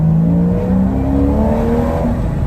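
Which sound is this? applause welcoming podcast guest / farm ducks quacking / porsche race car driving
porsche race car driving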